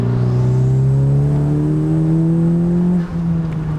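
A 10th-generation Honda Civic Si with an aftermarket turbo inlet pipe pulls hard in third gear from about 3,500 rpm. Its loud, close engine note climbs steadily in pitch, then dips briefly near the end.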